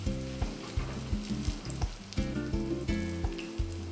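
Potato fritters fry in coconut oil in a pan, giving a steady, fairly quiet sizzle with soft crackles and pops throughout, heard alone without talk.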